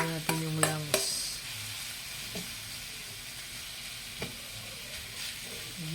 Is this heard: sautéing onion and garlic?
yes